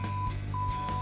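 A steady electronic timer beep sounds from an Alto-Shaam CTP 720 combi oven once a grilled cheese sandwich has finished cooking, a thin tone running over a low kitchen hum for about a second.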